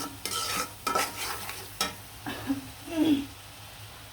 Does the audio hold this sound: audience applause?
no